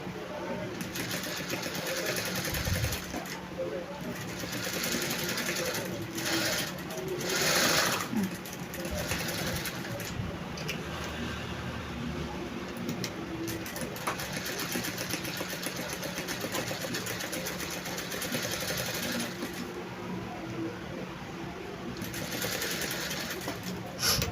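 A sewing machine hums continuously at close range while running a loose stitch on a dress pocket, its steady mechanical drone broken by brief pauses and handling noises, with a person speaking now and then.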